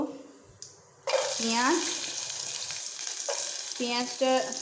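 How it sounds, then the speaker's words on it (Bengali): Cumin seeds crackle in hot oil in a heated kadai, then onion goes in and erupts into a loud close sizzle that carries on with stirring, after a quiet opening with a brief clink. "এর মধ্যে তেল আর জিরে দিয়ে দিয়েছি, এটা চটপট চটপট করে ফুটছে"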